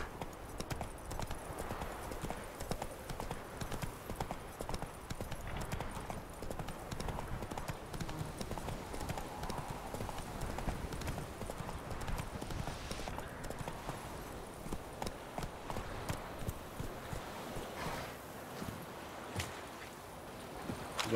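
Roach, the horse in the game The Witcher 3: Wild Hunt, trotting with steady rhythmic clip-clop hoofbeats throughout, close and continuous.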